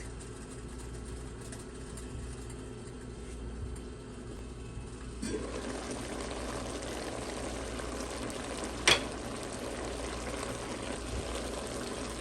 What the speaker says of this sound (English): We're going to let it simmer for about 15 minutes